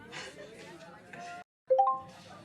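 A phone reminder notification in the dating game Ten Dates plays a bright rising three-note chime right after a brief silence, with a person talking before and after it.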